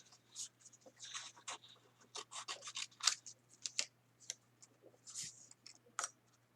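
Scissors snip paper close up while scrapbooking, a quick irregular run of crisp cuts and rustles, quiet and without talk.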